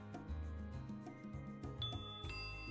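Doorbell chime in the visual novel White Album: Memories like Falling Snow, bright ringing tones over soft game background music, with a sustained tone toward the end.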